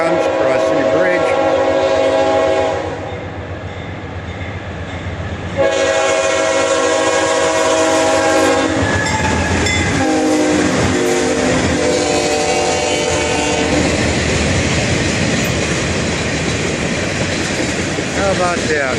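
A long freight train crosses a bridge over the Suwannee River, its loud horn blaring in sustained blasts over the steady rumble and clatter of rolling wagons close by.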